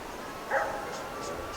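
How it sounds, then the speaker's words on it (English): A dog barks a few times in the distance outdoors, short faint yelps amid ambient noise, with no clear speech over it. "You can hear Pablo barking."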